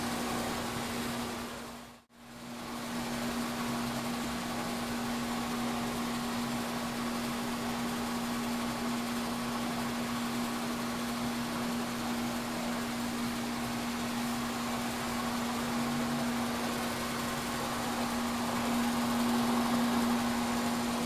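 A milling machine cutting gears runs steadily and fairly loudly with a constant mechanical hum, broken by one brief near-silent dropout early on.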